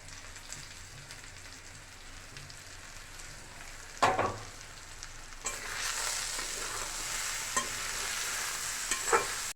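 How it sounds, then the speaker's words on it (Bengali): Spices, ginger and salt frying in a pan for khichuri, a steady hissing sizzle with a sharp clatter as it is stirred, the frying growing louder and denser midway. "মুগের ডাল দিয়ে দিলাম, মুগের ডাল দিয়ে নাড়তে থাকবো।"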